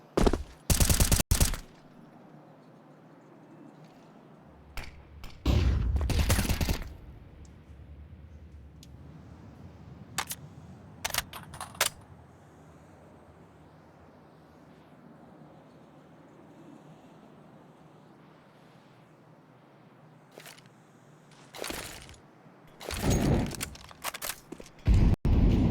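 Pistol fire in a Counter-Strike esports match, scattered loud sharp shots and bursts over a steady hum of game ambience, with quieter gaps between clusters and no commentary.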